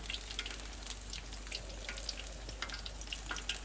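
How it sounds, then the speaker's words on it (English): Onion rings and tempura prawns and vegetables deep frying in hot oil, giving a continuous close crackle and sizzle with busy popping bubbles and no talking. "you can hear that bubbling away"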